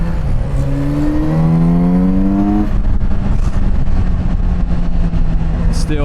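A Kawasaki Z900RS inline-four motorcycle engine revs up in rising pitch sweeps, then settles into a steady near drone, loud and close.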